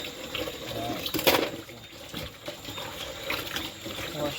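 A tap runs steadily as fish are washed with vinegar and water in a sink, continuous close splashing with brief louder sloshes of handling.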